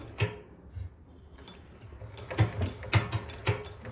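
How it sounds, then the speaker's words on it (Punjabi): A hand-turned sewing machine runs backward after oiling, giving soft mechanical ratcheting clicks and gear knocks at an uneven, slow pace, close and fairly quiet. "ਹੁਣ ਜਿਹੜਾ ਮਸ਼ੀਨ ਨੂੰ ਆਪਾਂ ਪੁੱਠਾ ਘੁਮਾਉਣਾ ਸ਼ੁਰੂ ਕਰ ਦੇਣਾ"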